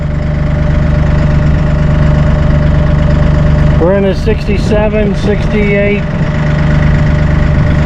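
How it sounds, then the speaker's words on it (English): A turbocharged Massey Ferguson 1M.35/1M.40 compact tractor engine idles steadily and loudly throughout, with someone talking briefly over it midway. "We're going to pull our RPMs down here and do a little sound testing. Idle speed."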